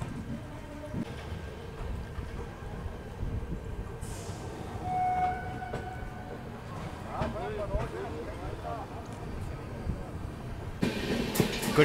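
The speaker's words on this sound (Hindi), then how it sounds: "ये है वैशाली सुपरफास्ट एक्सप्रेस की जर्नी" Steady rumble and rattle of the Vaishali Superfast Express running on its Saharsa to New Delhi route, heard from inside a sleeper coach, with wheel clatter, a faint distant horn and voices talking over the noise.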